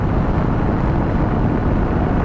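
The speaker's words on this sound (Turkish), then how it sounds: "Ama bayağı rüzgarlı ya." Steady, dense wind roar buffets the microphone throughout, a constant rushing blast with no pauses, as if moving fast through open air while riding a BMW S1000XR motorcycle.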